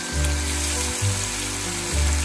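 Ginger, onion and garlic spice paste fries in ghee in a pan, a loud, close, continuous sizzle with bursts of bubbling and spattering that swell and ease as the paste is stirred.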